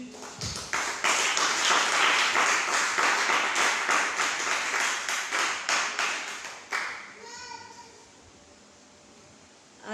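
Church congregation clapping and applauding together to acclaim Jesus, a dense steady burst of hand claps lasting several seconds before fading out, with no talk.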